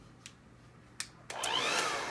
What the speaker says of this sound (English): so now you take your blow dryer again back on cool settings